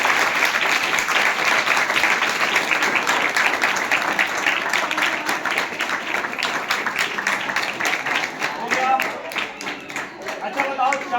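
A school audience at a mobile science exhibition bursts into loud, sustained clapping that carries on for several seconds before thinning out, with voices audible underneath.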